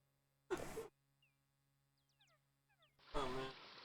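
A cat meowing in the DOS game King's Quest V, played on real 486 hardware: two short synthesized meows, one near the start and one near the end, with soft chirping game sounds between them.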